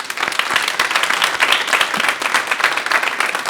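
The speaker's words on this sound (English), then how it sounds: "Let's give them a round of applause." Graduation ceremony audience giving the graduates a round of applause, dense sustained clapping from a large crowd filling the hall, loud and continuous throughout.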